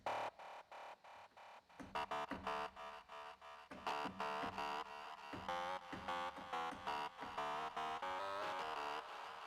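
A bright, buzzy psytrance synth preset plays a choppy rhythmic pattern of stabbing chords, steady and fairly loud, with no one talking.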